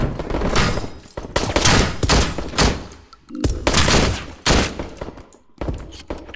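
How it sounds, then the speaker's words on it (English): Video game gunfire: rapid bursts of heavy shots and volleys hitting in clusters, loud and close, separated by brief pauses with thuds between salvos. "Who's shooting at us?"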